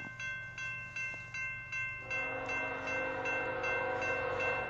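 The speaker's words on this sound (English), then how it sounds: "Oh, another freight train." A southbound BNSF freight train passes close by, its horn holding steady sustained tones over a continuous rolling rumble of wheels and cars that grows fuller and louder partway through.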